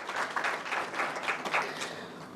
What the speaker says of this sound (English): please give yourself a big round of applause for being here